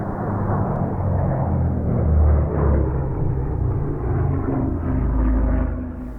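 P-38 Lightning and P-51 Mustang 12-cylinder aircraft engines during aerobatics, a dense continuous roar of deep droning rumble that swells and eases as the planes manoeuvre.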